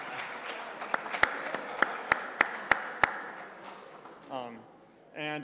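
Scattered hand claps from an audience at a spring athletics awards ceremony, a handful of sharp claps in a brief burst, followed by a voice speaking.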